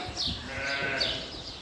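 Sheep bleat on a Suffolk farm among imported pure-bred stock and lambs, several overlapping calls rising and falling close by over steady farmyard background noise.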